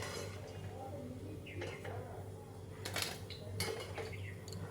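Onion pakoras being dished onto a plate in a home kitchen: soft clinks and scrapes of a utensil against crockery, faint and close over a low background hum.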